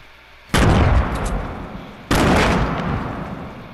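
Two heavy, booming gunshots in Fortnite, about a second and a half apart, each loud and near with a long rumbling decay.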